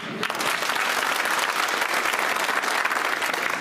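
Sustained applause from a big crowd at a 2024 Lok Sabha election public meeting in Shadhaura, Guna-Shivpuri, India, thick even clapping that swells in quickly and holds at a loud, steady level for several seconds.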